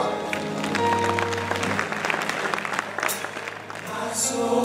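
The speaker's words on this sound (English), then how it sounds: "Come on, clap your hands, everybody." A congregation at a worship service with a mime ministry claps their hands, the clapping mixed with music, sustained tones and some voices throughout.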